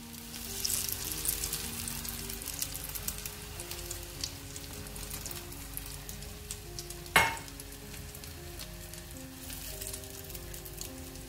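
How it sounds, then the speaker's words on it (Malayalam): Oats omelette mix frying in a pan gives a faint, continuous sizzling hiss over quiet background music, with one sharp clink midway. "ഇനി നമുക്ക് ഓംലെറ്റിൻ്റെ മിക്സ് ഒഴിച്ച് കൊടുക്കാം."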